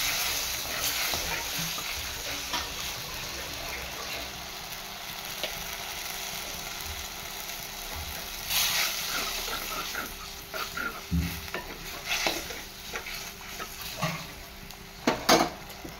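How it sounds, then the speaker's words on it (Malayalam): A pot of Kerala-style fish curry made with pallathi fish, water and salt is stirred, giving scattered scrapes and clinks of a utensil against the pot over a faint, steady simmer. "ആവശ്യത്തിന് വെള്ളവും പിന്നെ ആവശ്യത്തിന് ഉപ്പൊക്കെ ഇട്ട് നല്ലോണം ഇളക്കി"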